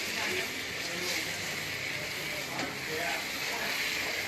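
Fresh peas frying in a cooked masala for chicken keema, a soft, steady sizzle with faint stirring scrapes, fairly quiet and close.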